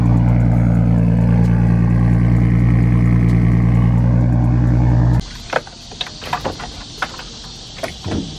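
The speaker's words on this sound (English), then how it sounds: "This car sounds so good." A Nissan 240SX engine idles close by with a steady, throbbing low rumble for about five seconds, then shuts off abruptly. A few light clicks and taps follow in the quiet.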